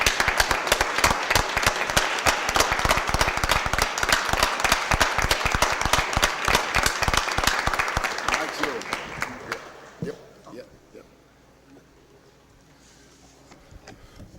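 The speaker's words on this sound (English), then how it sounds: "Let's give them a big round of applause" A crowd at a city Board of Aldermen session breaks into loud, sustained applause with sharp individual claps, tapering off after about nine seconds into quiet room noise and faint talk.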